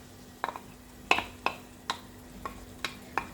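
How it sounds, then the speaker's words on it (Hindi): Chicken palak gosht frying in a pan while being stirred, with a quiet background sizzle and about seven crisp, evenly spaced utensil scrapes and clinks against the pan, close up, with no talking. "अब इसकी भुनाई करेंगे हम बहुत अच्छी तरह"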